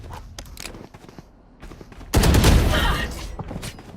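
Heavy gun fire in Valorant, a sudden loud burst of rapid shots after quieter clicks and game sounds, with voices talking over it.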